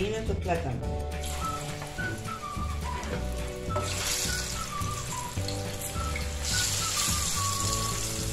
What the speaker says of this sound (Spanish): ya lo vamos a empezar a freír nuestro plátano